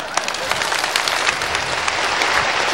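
A large audience applauds at a gathering honouring rear-area workers, loud sustained clapping that blends into a thick, continuous roar with a few sharper claps standing out.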